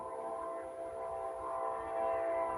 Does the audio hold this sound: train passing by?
yes